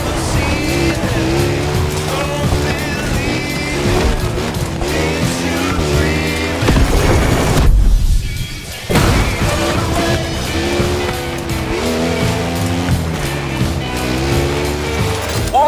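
A car in The Crew Motorfest video game drives along a mountain ridge, its engine droning loud and continuous with shifting revs and a brief dip midway.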